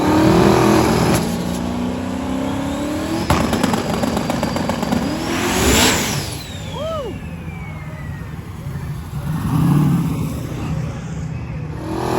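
A drag race car launches hard during day two of Sick Week 2024, its engine roaring loud and close, then climbing steeply in pitch as it accelerates away down the strip, leaving a fading rumble and distant crowd noise behind.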